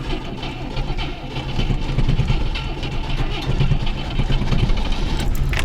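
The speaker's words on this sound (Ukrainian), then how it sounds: "Мотор не заклинив, це вже добре, що ми запустились хоча б." An IZh motorcycle engine, overheating, runs steadily at a low rumble, close and fairly loud, with a continuous throbbing drone and no pauses.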